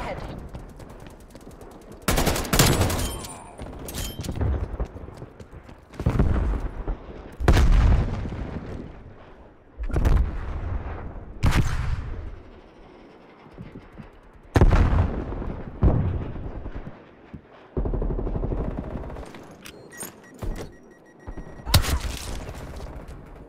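Gunfire and explosions in the shooter game Call of Duty: Black Ops Cold War, loud repeated bursts of automatic fire and booms arriving in clusters every few seconds, with short quieter gaps between them.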